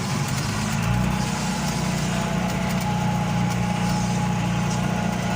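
A John Deere 2140 tractor engine runs steadily at a low, rumbling idle with a constant throbbing drone, close and loud throughout, with no speech.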